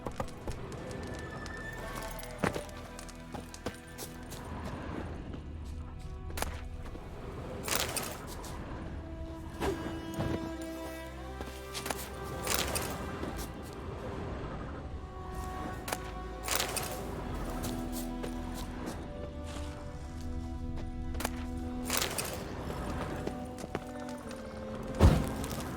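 Roach the horse gallops in The Witcher 3, a steady rhythmic clip-clop of hooves running on and on, with occasional louder thuds and a sharp crack near the end.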